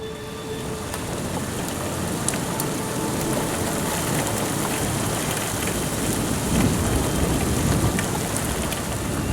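Steady, dense rain pours down during a humid spring thunderstorm, with distant rumbles of thunder rolling underneath the constant hiss of drops for the whole stretch.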